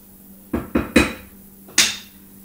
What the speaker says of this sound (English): I'm just going to take with a wooden spoon and mix it